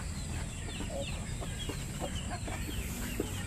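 Rhode Island chickens cluck in a noisy farmyard, with scattered soft clucks over a constant rumbling background, at moderate distance.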